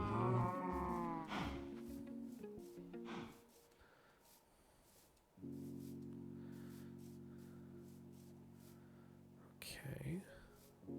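A cow moos in the modded Minecraft game, a long steady low lowing that holds for several seconds, clear and close, following a brief stretch of whispery voice and other game sounds.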